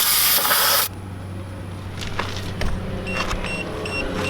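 Air hisses loudly and steadily for under a second as a TireMinder TPMS sensor is screwed onto a car tire's valve stem, then cuts off, leaving faint background noise and a few small clicks.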